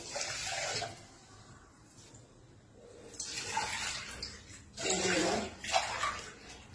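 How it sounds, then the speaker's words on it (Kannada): Water splashes and pours in several bursts into a pot of washed rice, with quieter gaps between, close by and moderately loud. "ಈಗ ಇದಕ್ಕೆ 3 ಲೋಟ ನೀರು ಹಾಕ್ತೀನಿ."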